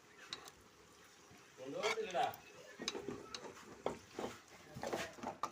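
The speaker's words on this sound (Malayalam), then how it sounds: "നന്നായിട്ട് ഇളക്കി കൊടുക്കാം" Beef and softened onions are stirred in a pan for Kerala-style beef peralan, with close scraping, clinks and a soft sizzle, under a voice talking.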